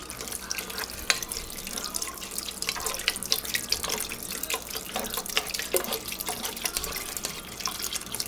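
Chicken broth pouring into a pot of Zuppa Toscana soup, a steady splashing, gurgling stream with scattered drips, moderately close and continuous without talk.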